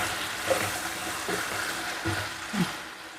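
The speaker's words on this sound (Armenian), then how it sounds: "սոխը տապակվեց և ես սունկն եմ ավելացնում, քամած սունկը։ Սոխի հետ սա թող տապակվի" Mushrooms and onion fry in a pan with a steady soft sizzle, broken by a few stirring scrapes and clatters, all close and moderate in level.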